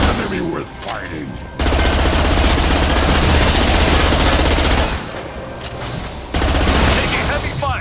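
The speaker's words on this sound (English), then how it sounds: "Taking heavy fire." Heavy, sustained video-game gunfire roars at close range in long unbroken bursts, cutting out for a moment near the end before firing again, while a voice speaks faintly underneath.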